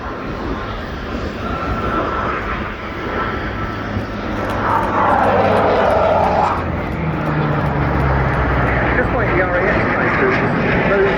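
Eurofighter Typhoon jets flying past at the Royal International Air Tattoo air show, a loud rising roar of jet engines swelling midway, with a commentator talking over the noise.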